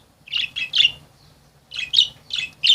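Pet finches or small cage birds chirping loudly indoors, with bursts of bright, rapid tweets in quick clusters, a short pause, then more close calls.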